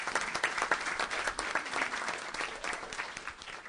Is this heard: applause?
yes